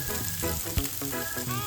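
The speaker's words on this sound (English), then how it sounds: "And now that's frying." Paneer tikka and vegetables frying in a pan give a continuous, close sizzle with occasional spatters and stirring clinks.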